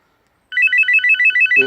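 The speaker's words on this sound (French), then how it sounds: "on a bien le téléphone à côté qui sonne pour nous indiquer que on a un appel" A telephone rings for an incoming call, a clear repeating electronic ringtone pulsing in quick even bursts, loud and close, with a short thump at the end.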